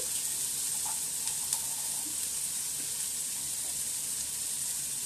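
Onions frying in a pan with ground spices added, giving a steady, close, even sizzle with faint stirring that holds for the whole stretch and has no talking over it.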